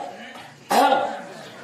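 A single throat-clearing ahem, forced by pressing the abdomen, comes as one sharp burst after a faint breathy lead-in, near and clear, with no talk.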